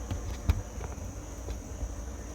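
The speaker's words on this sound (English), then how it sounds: "Oh, the cicadas." Cicadas drone in a steady, faint high buzz that runs unbroken through the whole moment, with a few soft low thumps and handling bumps nearby, during a quiet morning coffee chat.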